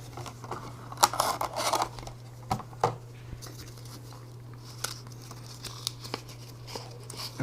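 Plastic clamshell pack for a Lord of the Rings card game being opened by hand, with scattered sharp plastic clicks and crinkles over a steady low hum, fairly quiet and close.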